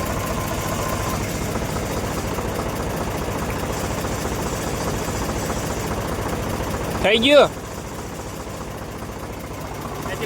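A backhoe loader engine idles on a farm in Gujarat, a steady mid-pitched diesel chug with slight knocking that runs throughout, and a brief louder burst partway through when a voice speaks.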